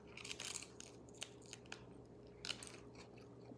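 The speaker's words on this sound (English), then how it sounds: "now I'm eating lettuce" Someone crunching and biting into crisp romaine lettuce up close, with irregular crisp bites and chewing bursts over a quiet room hum.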